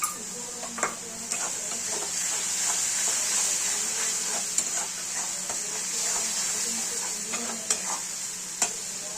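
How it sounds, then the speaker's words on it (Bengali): Spice masala with coriander powder and salt stir-fried in a pan for dhaba-style egg bhurji, a continuous hissing sizzle with scattered soft clicks of a spatula, no talking. "মশলাটা ভালো করে কষিয়ে নেব"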